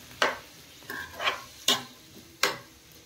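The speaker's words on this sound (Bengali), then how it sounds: "এখন দেখো এখানে চাটনি করব, তাই টমেটোগুলো সব তেলের মধ্যে দিয়ে দিলাম।" Tomatoes frying in oil for a chutney, heard as four sharp sizzling bursts with clatter, spaced about half a second apart over a quiet background, close and with no talking.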